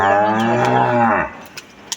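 A cow, a heavy dairy animal with a large udder, gives one long, loud, resonant moo close by, fading out near the end, followed by a couple of faint clicks.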